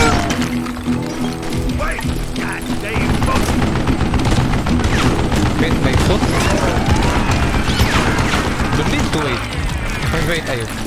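Gatling gun in the Wild West shooter Call of Juarez, firing in a loud, sustained rattling burst for most of the clip, mixed with sharp cracks, booms and other game effects.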